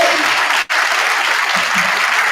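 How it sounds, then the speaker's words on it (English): An audience at a scholarship program gives a presenter another round of applause, dense and sustained hand clapping filling the room with only a brief dip in the middle. "I'll give her another hand."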